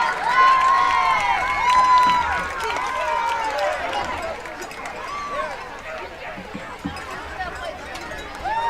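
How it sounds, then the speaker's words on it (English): Crowd noise and applause in the stands at a Tanner HS vs Colbert County HS high school football game, greeting the Colbert County Pride of the Crowd marching band, a steady roar with cheering and whistles and voices running throughout. "applause for the 2025 Colbert County Pride of the Crowd."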